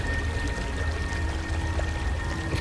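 A waterfall in a Star Wars role-play video game rushes steadily, a dense continuous pour of water with a faint tonal hum running underneath, with no pauses.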